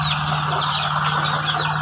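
A chicken clucks softly in a steady outdoor backdrop, with faint bird calls and a constant low hum, no talking.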